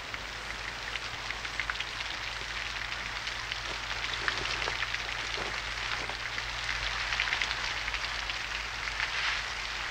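Steady rain falls continuously on a summer day, an even wash of hiss and fine patter with no voices.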